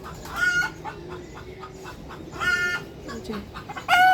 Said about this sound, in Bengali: মুরগিতে বোধহয় ডিম পারছে